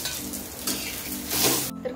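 Onion frying with ginger and garlic in a pan for a spicy chicken curry: steady close sizzle with scraping stir strokes, building louder near the end before cutting off abruptly.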